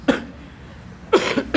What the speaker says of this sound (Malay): Batuk pula tuan-tuan